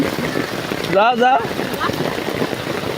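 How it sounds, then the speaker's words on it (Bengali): Steady rain patters on a boat during a fishing trip, a dense hiss of drops filling the whole clip, with a brief voice and wind rumble breaking through near the middle. "ওই যে আরেক বৃষ্টি"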